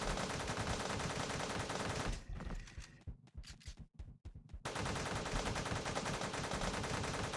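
Rapid automatic gunfire from spraying ammo in the video game Teleglitch: dense, continuous bursts of shots that stop abruptly, leaving a few scattered single shots and clicks, then the sustained barrage resumes just as loud.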